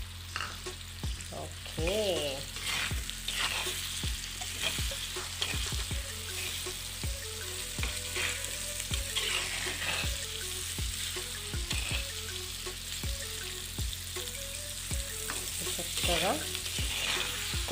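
Fresh raw prawns fry on high heat in a pan, sizzling steadily while a utensil scrapes and stirs them in repeated sharp strokes, close up, with a few brief spoken words.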